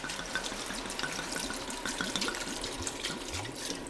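Wine poured from a bottle into a pot of mussels for moules marinières, a steady soft liquid stream lasting several seconds, close but fairly quiet, with no one speaking.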